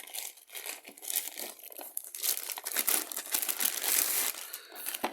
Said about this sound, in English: this is how the figure comes protected with an outside plastic bag